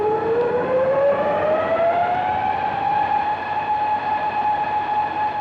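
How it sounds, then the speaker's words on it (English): Whirling flying-saucer sound effect from a 1950s science-fiction film: a continuous siren-like electronic whine rises steadily in pitch then holds, over a dense rumbling hiss, unbroken and at moderate loudness throughout. "it's actually the basis of the sound of the whirling of the saucers and the mechanisms that go with it."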